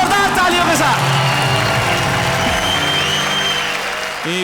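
Audience applause welcoming a guest at a Hindi poetry and shayari stage show, a steady loud clapping crowd filling the whole stretch, with a few whoops and some music or voices mixed in.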